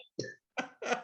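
Three quick harsh coughs in a row, close and fairly loud, each a short raspy burst separated by brief pauses.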